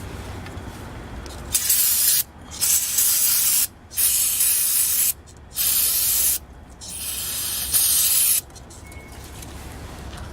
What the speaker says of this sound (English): I'm getting a little low on the carburetor cleaner.